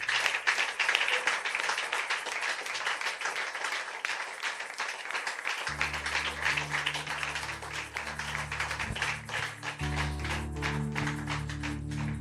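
A church congregation applauds and acclaims Jesus during lively worship, with a dense, sustained crowd clapping at full strength throughout. Midway, deep sustained keyboard or organ tones come in beneath the applause.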